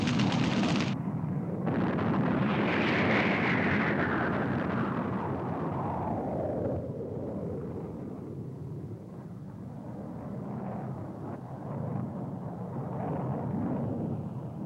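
U.S. airstrikes during the Vietnam War: a heavy, sustained roar of aircraft and explosions rumbles loudly throughout, with a high engine whine sweeping downward in the first seconds, and no voices.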